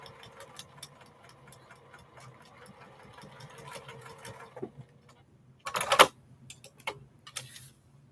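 A sewing machine runs steadily, stitching a quilt block on foundation paper, its needle hum close and even before stopping abruptly, followed by a few sharp clicks and handling noises.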